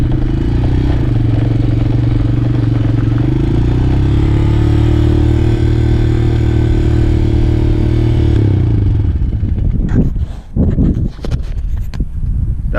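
A Honda TRX250 ATV engine drones steadily and loudly during a short test ride, its idle set a little high, then stops into a few seconds of clattering and scraping handling noises.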